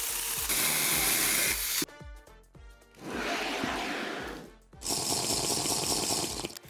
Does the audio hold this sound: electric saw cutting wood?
yes